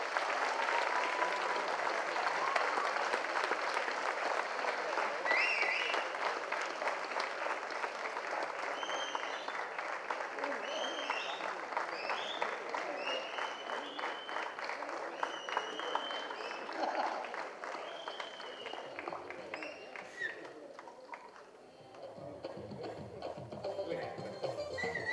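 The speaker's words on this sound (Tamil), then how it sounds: "இவங்களுக்கெல்லாம் ஒரு ஒரு கைத்தட்டல் மட்டும் கொடுக்குறீங்களா?" An audience at a Tamil film event claps loudly for the crew of August 16 1947, sustained dense applause that gradually fades, with voices heard during it.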